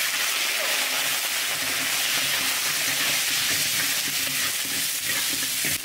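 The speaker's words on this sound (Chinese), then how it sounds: "猪脚我们弄起来炒一下哈" Pork trotters stir-frying in a wok with scallion and ginger, a loud, continuous hissing sizzle with scraping stir strokes, up close and without talk.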